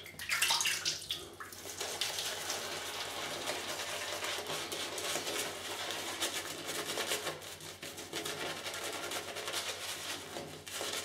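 Tap water runs onto a shaving brush, a continuous hissing splash at close range with a louder gush at the start, then an even flow throughout.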